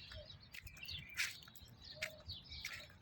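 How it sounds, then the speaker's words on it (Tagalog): Several birds chirping in a park, short high tweets and calls scattered irregularly over a quiet outdoor background, fairly faint and without any talking. "Daming ibon."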